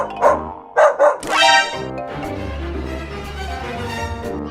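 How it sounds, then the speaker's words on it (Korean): Several small dogs bark and yip in quick bursts near the start, followed by a steady background hum with musical tones. "이때 등장하는 의문의 강아지들."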